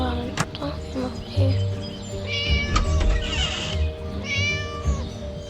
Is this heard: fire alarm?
no